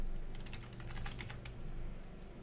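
Fast, steady typing on a computer keyboard during a modded Minecraft session, a continuous patter of clicks layered over a constant background hum, close and moderately loud with no speech.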